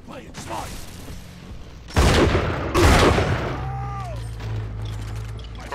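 Heavy shotgun blasts in BioShock 2, two loud booming shots about a second apart with a rattling mechanical tail, followed by whooshing game effects and a low hum.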